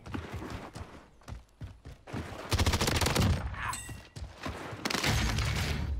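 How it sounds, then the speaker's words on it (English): Sniper and other gunfire in a Warzone battle royale match, scattered sharp shots early, then louder rapid volleys with short pauses, close and prominent. "Oh, they're sniping at me."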